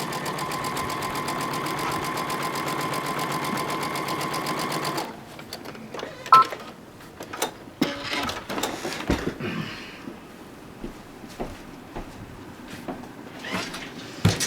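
Sewing machine stitching a quarter-inch seam on a quilt block, a steady close mechanical whir for about five seconds that then stops, followed by quieter handling clicks and fabric rustle.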